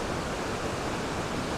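A waterfall beside a campsite near the fjords roars in a constant, dense rush of water that stays level throughout the short stretch.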